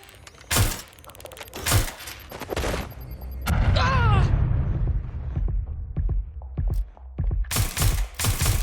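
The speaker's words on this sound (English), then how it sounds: "Frag deployed!" In Watch Dogs Legion, a frag grenade goes off in a heavy, loud blast with a rumbling tail, set among sharp, booming gunshots that hit hard at the start and close, while voices call out.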